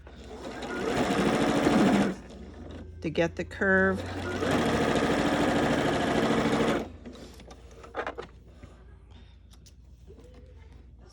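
A sewing machine stitches a fabric face mask in loud, steady bursts of mechanical whirring, stopping and restarting several times, with a person talking briefly between runs.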